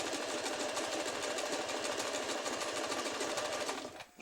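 A sewing machine runs steadily at speed while stitching elastic onto a ruffle, a continuous close rapid whirring hum that cuts off just before the end.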